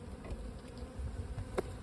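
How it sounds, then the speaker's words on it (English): Honey bees from a package being installed in a hive buzz steadily at close range, a dense insect hum with a brief louder burst near the end and no talk. "Now we're just going to take the rest of our bees"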